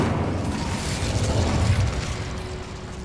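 An Incendio fire spell goes off in Hogwarts Legacy with a deep, rumbling burst of flame that swells and then slowly fades over a few seconds.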